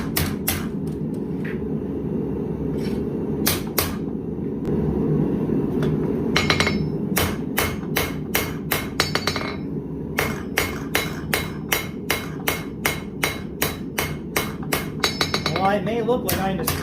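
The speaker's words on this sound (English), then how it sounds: "While it may look like I'm just pounding the heck out of this thing, the rebound of the anvil is actually doing a lot of work for me." A hammer strikes a Viking seax knife blade on an anvil, ringing out in close, sharp, rapid blows, sparse at first and then in a steady rhythmic stream, over a constant roaring forge background.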